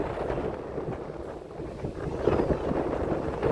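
Steady wind rushing around an outdoor temple, buffeting the microphone in a constant low roar that swells a little louder toward the end, with no one talking.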